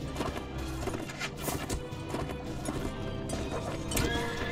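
Horses gallop in the Mount & Blade: Warband video game, their hooves clattering steadily under neighs and loud battle noise, in a continuous chaotic cavalry melee.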